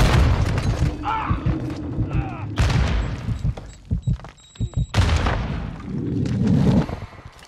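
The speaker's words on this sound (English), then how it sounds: "I'm getting fucking grenade after grenade" Grenades going off in a shooter video game, several heavy booms and bursts spread across the stretch, with crackling debris and other battle noise between them.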